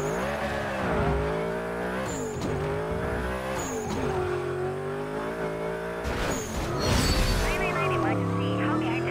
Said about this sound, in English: The cop spun me out.